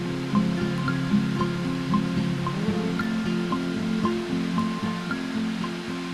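River water flowing steadily at a water collection site, a continuous rushing wash heard close and alone, with a faint intermittent tonal hum running beneath it.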